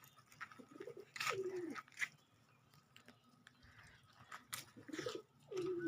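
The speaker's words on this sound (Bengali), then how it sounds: "যে কবুতরগুলো দেখতেছেন, এখানে বেশি আর কি কবুতর নাই, অল্প কিছু কবুতর।" Pigeons at a small pigeon farm give several soft, rolling coos at close range, with a few sharp bird calls and light pecking or shuffling between them.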